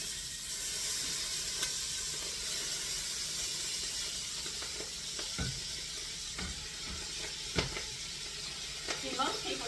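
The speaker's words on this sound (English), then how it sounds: "I'm going to start adding the kale." Kale hits a hot pan alongside browned pancetta, giving a steady close sizzle and hiss with occasional stirring scrapes and clicks, growing busier toward the end.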